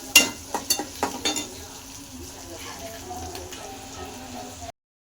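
Mutton frying in a pan for a spicy mutton thali, a few sharp spattering pops at first settling into a soft, steady sizzle close by, with a voice speaking over it.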